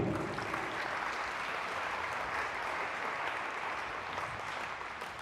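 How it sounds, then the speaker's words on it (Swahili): A church congregation at a Swahili-language seminar applauds in a dense, continuous wash of clapping that holds steady and tapers slightly toward the end, with no voices over it. "Mpe Yesu makofi."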